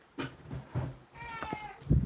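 A domestic cat meows at close range indoors on a morning at home, giving a couple of short, clear calls with quieter rustling between them.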